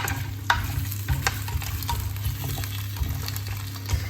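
Food seasoned with pepper is stirred in a pan for a home Christmas dinner, with scraping utensil strokes and a few sharper clinks over a low, steady cooking hum, close and moderately loud, no talk.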